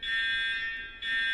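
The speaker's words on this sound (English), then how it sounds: "when you hear that alarm, get up, get out, and stay out." A smoke alarm sounds with a loud, shrill, high-pitched electronic beep, one long tone broken by a brief gap before it resumes, heard alone.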